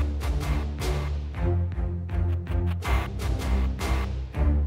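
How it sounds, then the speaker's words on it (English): Dense cinematic music mix of low strings, snare hits, gritty shattering accents and a deep sub kick, loud and continuous with punchy repeated percussive hits throughout and no talking. "And all together, the lower strings, the snares, the gritty shatters, and the sub kick sounds like this."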